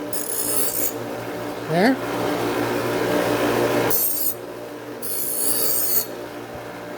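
A hand file rasps along the edge of a push mower blade in close, gritty strokes, with bursts of bright scraping and pauses between them and a single brief spoken word.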